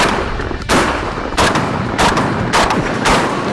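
A Landor Arms bullpup 12-gauge semi-automatic shotgun fires outdoors in a rapid string of about five loud booming blasts, roughly half a second apart, each with a short echoing tail.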